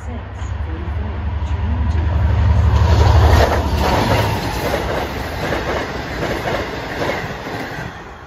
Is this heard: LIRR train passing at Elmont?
yes